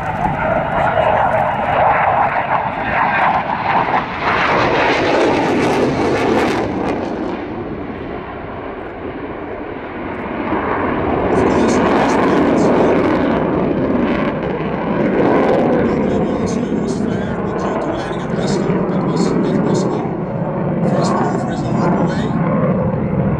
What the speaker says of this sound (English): Gear down, landing light on, simulating a takeoff because he flies out of Copenhagen Airport